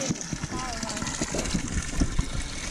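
Water gushing from a natural jungle shower in Luang Namtha, a steady splashing rush with a person talking over it.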